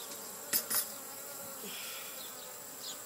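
Honey bees buzz faintly around an opened hive, a soft steady hum with a couple of brief louder clicks or knocks near the start.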